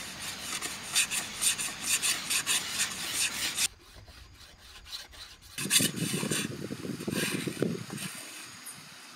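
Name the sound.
rubbing bamboo for friction fire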